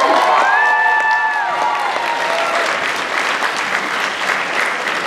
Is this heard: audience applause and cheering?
yes